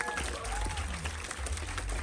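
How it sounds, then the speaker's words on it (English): Applause from a church festival audience fills the space, dense and steady throughout, with crowd noise and some voices mixed in. "give yourself a round of applause"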